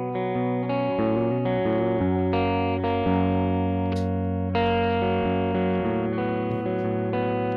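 Electric guitar played through a Richie Kotzen Fly Rig pedal with no reverb, sustained distorted chords and notes shifting in a steady phrase, loud and close with no talk.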